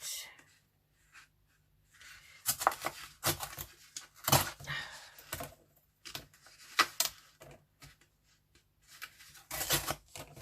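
Paper is torn by hand for a collage, giving a few rough, rasping rips in short bursts with quieter pauses between them.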